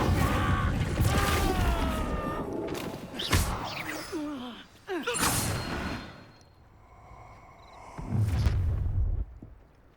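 The Incendio fire spell in Hogwarts Legacy erupts in loud bursts of whooshing flame and impact booms amid combat noise, with a few sharp blasts spaced across the scene.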